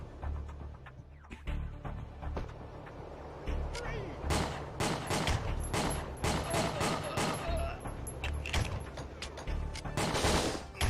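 Rapid gunfire from the video game Winback, bursts of shots packed densely over a steady game soundtrack, loud and continuous throughout, with a person talking over it.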